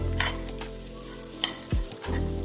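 Peanuts with salt and chilli powder being stirred in a hot pan, a soft continuous sizzle with a few short scraping strokes of the spoon, close and moderately quiet.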